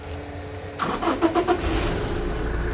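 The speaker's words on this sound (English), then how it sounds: "We'll start the car up so you can hear it in the video also as well." A 2016 Toyota Hilux SR single cab with automatic transmission cranks with a few quick starter whirs, then fires and settles into a steady, close idle.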